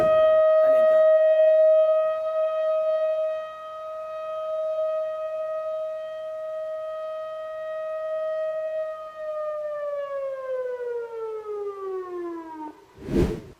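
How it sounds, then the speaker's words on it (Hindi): A nationwide emergency siren test in Saudi Arabia: a steady civil defense siren tone holds loud and level, then winds down in pitch near the end, with a brief burst of noise at the close. "नेशनल वाइड, पूरे देश भर में इमरजेंसी सायरन का टेस्ट किया गया है।"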